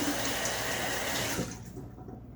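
Water runs steadily from a tap onto shaving lather in a bowl for about a second and a half, then cuts off, leaving faint quiet room tone.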